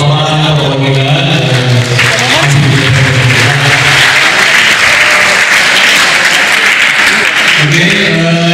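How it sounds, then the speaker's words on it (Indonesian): An audience at an entrepreneurship workshop applauds the village head's representative, giving loud, sustained, dense clapping that fills the room over a tonal background of music or voices. "saya mohon beri aplaus untuk Pak Lurah perwakilan"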